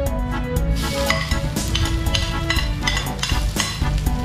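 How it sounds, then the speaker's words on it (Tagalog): Garlic fries in a hot wok, giving a loud, close, continuous sizzle with rhythmic scraping and clinks of a utensil stirring against the metal. "Mainit na po ang kwali. Lagay po natin ang bawang."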